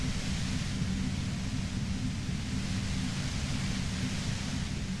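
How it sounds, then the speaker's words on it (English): A dense, unbroken roar of white noise and low rumble from a compressor in the game Disco Elysium, loud and close, steady throughout with no voices. "The violent white noise becomes even more overwhelming closer to the compressor."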